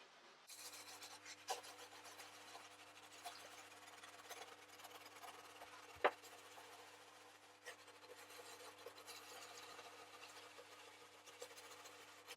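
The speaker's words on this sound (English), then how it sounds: "And now we're just going to burnish that in." Foil is burnished onto a stencilled design with a polishing bonnet, making a steady faint rubbing and buffing over a low machine hum, with one sharp knock partway through and no talking.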